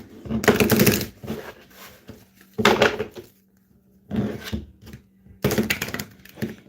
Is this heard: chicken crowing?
no